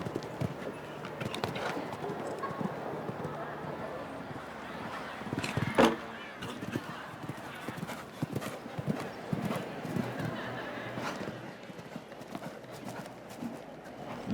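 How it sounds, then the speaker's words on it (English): Hooves of a show-jumping horse clip-clop steadily on the arena at Spruce Meadows on Canada Day, a close and continuous rhythm with one brief louder thump partway through and a soft bustle of the grounds underneath. "now finds herself in a very enviable position with this lovely horse Hester"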